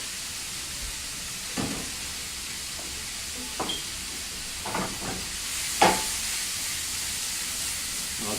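Butter chicken tossed in a pan with about 30 to 35 grams of melting unsalted butter, a soft continuous sizzle broken by a few scraping stirs and clatters, one sharper than the rest.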